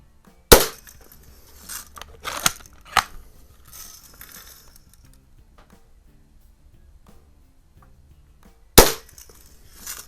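Shots from a Lil' Duke or Daisy Red Ryder BB gun striking a target: a few sharp, separate snapping cracks spaced seconds apart, with quieter handling noise between and a final loud crack near the end.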